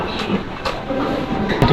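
An airport sky train runs steadily at close range, a continuous rumbling roll with faint rail clatter and a few brief higher clicks near the start and end.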